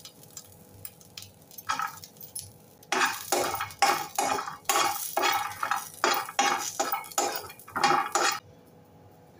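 Fresh grated coconut being roasted in a pan, with a spoon scraping and clinking against the metal in quick, irregular strokes over a faint sizzle, close and without talk.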